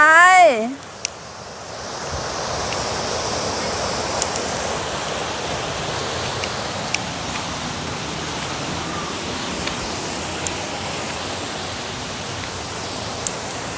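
Water at the first tier of the Nine-Tier Waterfall in Suan Phueng, Ratchaburi, rushes in a steady, close, broadband roar for the whole stretch. A short wavering whoop opens it, and faint scattered clicks sit on top.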